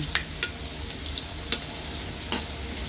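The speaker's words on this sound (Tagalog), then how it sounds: "Prituin muna natin yung patatas." Potatoes frying in hot oil in a pan for pork afritada, a soft steady sizzle with a few sharp stirring clinks and scrapes spaced through, close by with no talk.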